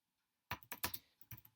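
Brief burst of typing on a computer keyboard: about eight quick, close key clicks in an irregular run after a short silence, with no voices.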